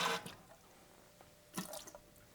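Reverse osmosis water being poured, with a splashy burst at the start and another trickling splash later, separated by quiet, faint drips.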